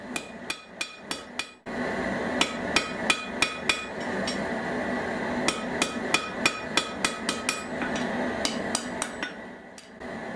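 Blacksmith hammer strikes ring out against hot steel on an anvil while tongs are forged, landing in quick bursts of sharp, bright blows with short pauses between runs, close and loud.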